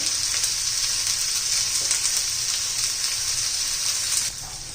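Chopped onion sizzles steadily in a hot pan while cooking for zunka, a close, continuous crackling fry with occasional stirring scrapes.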